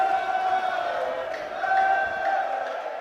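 An arena crowd at a bantamweight boxing bout cheers on Cann Neequaye, a steady roar of voices with a sustained tonal hum in the background, heard under a commentator's talk.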